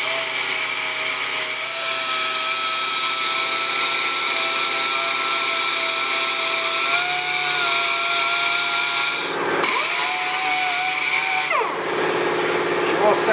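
A pneumatic belt sander runs steadily on molded trim, a continuous whirring, abrasive hiss with a faint tonal whine, dipping briefly twice as the tool lifts off the surface and resumes.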